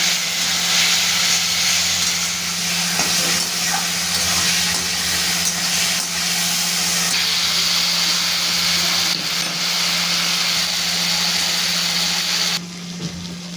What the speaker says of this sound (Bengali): এবার মশলাটা খুব ভালো করে আমি কষিয়ে নেব।